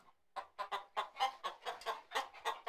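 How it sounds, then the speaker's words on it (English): A blue hen clucks in a quick series of about a dozen short, evenly spaced clucks, close and fairly quiet, with no voices. "Peg is a blue hen."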